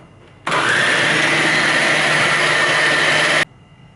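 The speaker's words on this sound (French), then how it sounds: "quand tout est mélangé, on repasse au mixeur" A food processor whirs loudly and steadily for about three seconds, blending biscuit powder with condensed milk and honey, starting and stopping abruptly with no talk.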